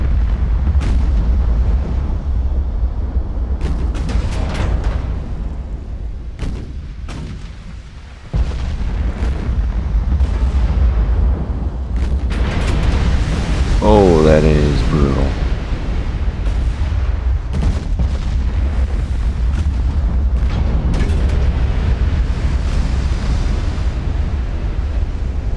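Naval gunfire in the Ultimate Admiral: Dreadnoughts game, repeated heavy booms of shells and return fire over a constant low rumble, with sharp sudden blasts spread across the stretch and a whistling shell passing midway.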